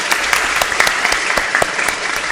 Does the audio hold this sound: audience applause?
yes